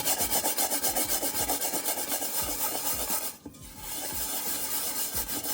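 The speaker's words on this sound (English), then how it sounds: "nothing, just the baking soda and you scrub" Rapid, steady back-and-forth scrubbing of a pot with baking soda, loud and close, with a brief pause about two-thirds through before the rasping strokes resume.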